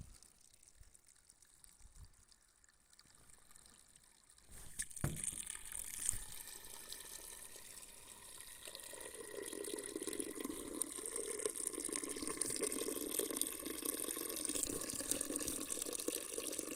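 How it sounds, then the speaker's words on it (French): Water from a tap being run into a container for homemade apple cider vinegar. A quiet start is followed by a sudden gush that becomes a steady, rising pour as it fills, close with no talk. "Regardez, on va remplir d'eau."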